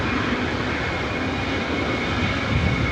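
A Boeing 777-300ER of Singapore Airlines, about seventeen years old, roaring on the runway at Los Angeles International for a Tokyo Narita takeoff, a loud steady jet engine rumble heard from nearby with no voices.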